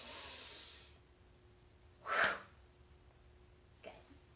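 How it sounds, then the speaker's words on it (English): Slow, deep breathing during a children's calm-down breathing exercise, a long soft exhale followed by a sharper audible breath near the middle and a faint one near the end, close and quiet with no talk. "Breathe in and close them. And let's breathe in again."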